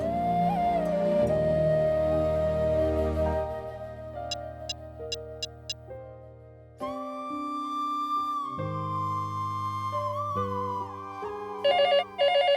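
A landline telephone rings with repeated electronic trills, first faint and then louder near the end, layered over sustained background music and tones.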